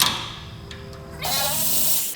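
A Milwaukee M12 3/8-inch cordless ratchet spins out a bolt held with blue threadlocker on a 2006 Dodge Ram 3500 power steering gearbox, giving a sudden, loud, steady mechanical whirr after a quieter lead-in.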